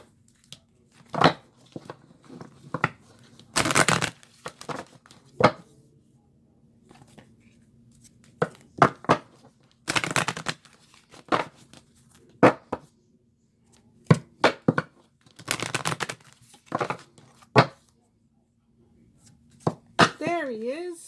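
A deck of oracle cards is shuffled up close in repeated short bursts of riffling and slapping, separated by quiet pauses, in a calm indoor setting.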